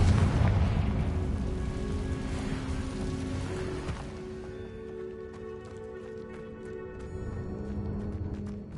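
A Confringo fire spell in the Hogwarts Legacy video game bursts in a cave ruin, a loud rumbling blast that decays into a sustained low roar over several seconds with faint crackling debris.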